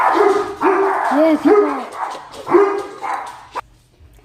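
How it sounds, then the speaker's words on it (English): Pet dogs bark at someone at the door of a home, several sharp, yelping barks in irregular bursts, fairly close, with brief talk mixed in before the noise cuts off. "If you couldn't hear my dogs barking, there was someone at the door."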